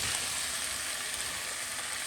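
Lamb, onion and garlic fry in a pan with a dense, steady hiss and crackle, close and continuous for a couple of seconds, with no talk.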